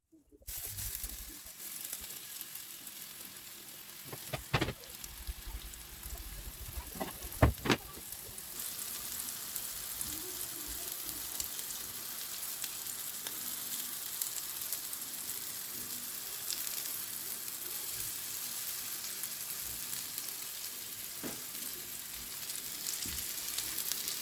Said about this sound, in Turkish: yağım kızdı. Şimdi köftelerimi atıyorum.